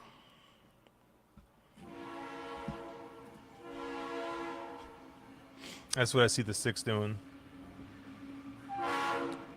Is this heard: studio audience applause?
no